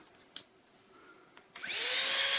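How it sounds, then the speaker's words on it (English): Rotary carving tool fitted with a small carbide inverted cone bit, cutting eyebrow detail into a wooden spirit bird carving: a couple of faint taps, then a high whine that rises as the motor spins up and grinds steadily. "Carbide, inverted cone bit. Let's see what that does on the eyebrows."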